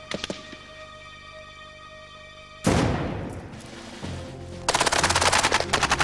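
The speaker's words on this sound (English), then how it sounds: "rapid fire now, rapid fire now" Rapid machine gun fire in a combat setting erupts in loud, close bursts, with a heavy boom and then a dense rattling string of shots, after a quieter stretch of scattered reports.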